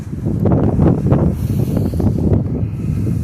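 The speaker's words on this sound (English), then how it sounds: "Sorry about the wind." Wind buffets the microphone, producing loud low rumbling gusts that rise and fall continuously with no clear voice.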